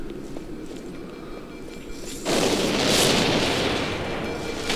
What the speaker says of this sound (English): Oh, now that's an explosion.